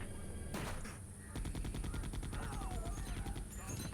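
A voice mimics machine gun fire in rapid bursts of dense, repeated staccato pops over Resident Evil 2 (1998) game audio, loud and continuous for several seconds.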